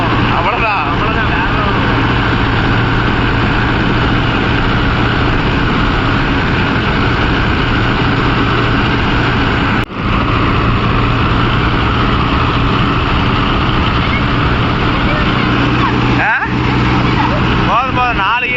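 A Mahindra Yuvo Tech Plus 585 4WD tractor runs through coconut tree land with a steady low engine drone throughout, a brief knock near the middle, and voices talking over it.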